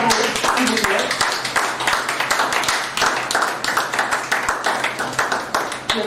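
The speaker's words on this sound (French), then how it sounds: "Applaudissez plus fort pour lui." An audience at an African Child Day 2020 event claps steadily in dense, sustained applause, nearby and loud, with voices talking underneath.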